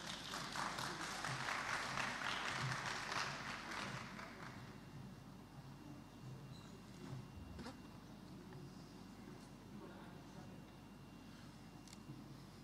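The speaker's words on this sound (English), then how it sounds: "Let's give him a round of applause." Audience applause at a science symposium morning session, loud and dense for the first few seconds, then fading into quieter scattered claps and room noise with faint talk-like sounds.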